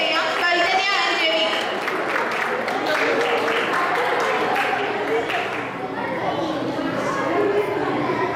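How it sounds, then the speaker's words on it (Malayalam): An audience applauds steadily in a dense, continuous wash of clapping that greets singers Soujanya and Ravi as they come on stage, with faint crowd murmur mixed in. "നല്ലൊരു കൈയടിയോടെ സ്വാഗതം ചെയ്യാം സൗജന്യ ആൻഡ് രവി."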